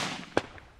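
An AK rifle fires a single 7.62x39 round at a level 4 body armor plate outdoors, heard as one short, sharp report that sounds fairly distant and faint.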